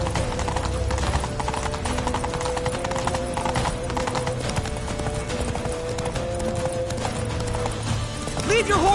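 A horse in the video game Witcher 3 gallops with rapid, steady clip-clop hoofbeats throughout, alongside game sounds and a brief whinny near the end.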